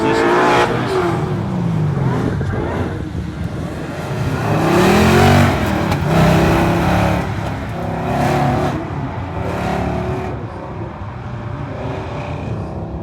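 Drag race cars in a shootout run near the end of the race roaring at full throttle, a loud, dense engine din with rising and falling pitch, heard at a distance from the sidelines.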